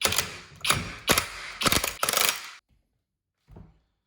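Clutch nut being tightened on a Yamaha Banshee while the clutch pack is held, heard as several loud, close ratcheting bursts in quick succession, then a pause and one short final click.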